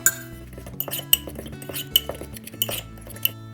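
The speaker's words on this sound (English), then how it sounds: "We're going to mix everything together with a fork." A fork clinks rapidly against a mug while mixing flour, salt and other dry ingredients for a chocolate mug cake, a close run of bright metallic taps and scrapes in uneven bursts.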